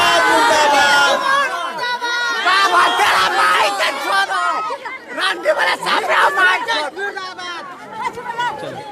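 A large crowd of villagers gathered at a protest after a village head's shooting, dense loud overlapping voices and shouts close by, surging and dipping over several seconds.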